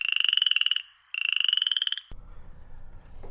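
Frogs croak in rapid, loud pulsing trains, two bursts separated by a short pause, close and clear, followed by a sudden cut to quiet low background rumble.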